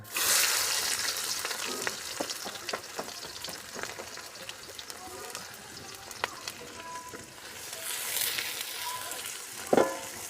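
Chopped onion sizzling in hot oil with whole spices for a matar mushroom sabzi, a close, continuous frying crackle with stirring knocks and a sharp clatter near the end.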